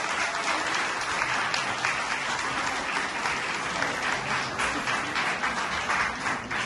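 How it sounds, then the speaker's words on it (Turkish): A theatre audience applauds at the closing of a Turkish theatre festival in Frankfurt, a dense, sustained wash of many hands clapping from start to finish with no voices standing out. "Onların da koca bir alkış"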